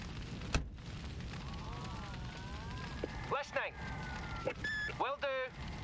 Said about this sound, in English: Okay, the ambulances are arriving.